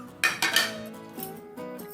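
Eggplant pakora batter is mixed in a bowl with ginger paste, cumin, fennel, coriander leaves and green chili: a few sharp utensil clinks with ringing tones, close and alone.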